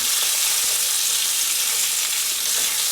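Bacon frying in a pan, a loud, steady, close crackling sizzle throughout with no voices.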